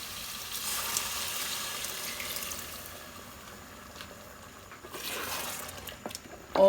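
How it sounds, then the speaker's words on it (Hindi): Half a cup of water poured into a pan of potato curry, giving a soft splashing, gurgling pour with a louder burst near the end. "आधा कप पानी का डाल देंगे।"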